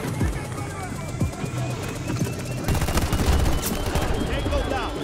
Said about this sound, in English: You shot that guy in the head.